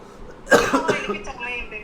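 One sudden, sharp cough bursts out nearby, followed by a trailing voice as someone keeps talking.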